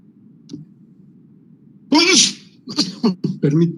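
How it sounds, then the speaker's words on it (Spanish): One loud, close sneeze bursts out during a fracture mechanics lecture, followed by a few short breathy sounds and murmured speech over a low room hum. "perdón, es que me llegó un estornudo"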